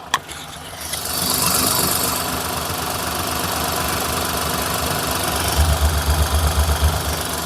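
A 2014 Hyundai Eon D-Lite Plus car idles close by with a smooth, steady low engine rumble and faint vibration that holds for several seconds, with no talking.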